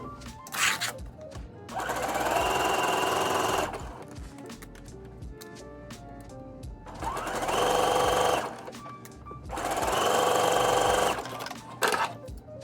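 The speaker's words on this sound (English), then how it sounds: "I used a zigzag stitch to sew my inseam" A sewing machine runs a zigzag stitch along the inseam of stretch biker shorts in three loud, close bursts of rapid mechanical whirring, separated by quieter pauses with faint handling clicks.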